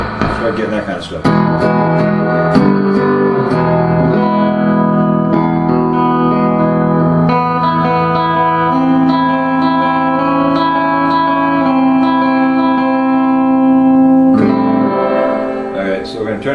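Electric guitar plays slow chords and melodic notes through a Fender amp with reverb turned fully up, notes blending into a thick, lingering wash, loud and continuous.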